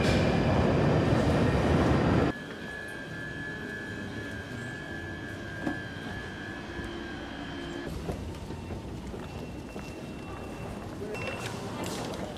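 Steady rumble of a train in motion heading to London, loud and close at first, then settling into a constant hum with occasional clunks and a high whine.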